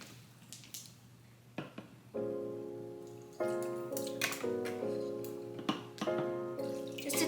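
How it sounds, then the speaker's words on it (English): Ocean Spray juice is poured into a homemade Starbucks-style drink as a thin stream into a cup, with a rising gurgle and a few splashes and clinks, faint against a quiet room. "Then I'm going to be adding in just a little bit of the ocean spray."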